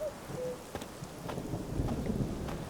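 A thunderstorm in The Witcher 3, with steady rain hissing on surfaces and low rumbling thunder, plus a few faint brief tones near the start.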